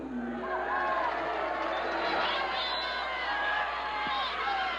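A crowd braving a cold 40-degree night at a college baseball game between Arkansas and Oklahoma State sends up a steady, broad murmur with scattered cheers, while an announcer talks over it.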